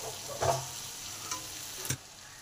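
A spoon stirs a half-boiled fish-head mixture in a covered pan, giving a few scraping strokes over a soft, steady sizzle without any talk.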